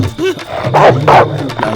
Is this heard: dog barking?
yes